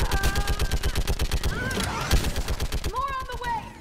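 Rapid automatic gunfire from Mass Effect 3 combat rattles in a fast, even rhythm, pauses briefly, then resumes, mixed with sci-fi tones and beeping game effects while people talk over it.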